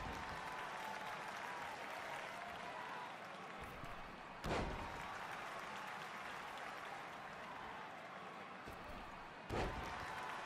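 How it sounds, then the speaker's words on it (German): Crowd applause in the WWE 2K23 wrestling video game during an Apex tag team tournament match: a steady broadband roar of clapping that continues throughout, with two sharp thuds or slams cutting through it. "Die klatschen."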